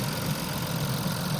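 A replaced twin-turbo engine in an Infiniti Q50 idles outdoors with a steady low rumble and even hum, close and unbroken, with no voices.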